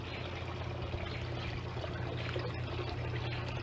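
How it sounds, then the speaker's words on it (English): A garden water fountain splashes and pours steadily in a small flower garden, a constant close trickling wash with no pauses and no voices. "the sound of the water fountain is just so soothing"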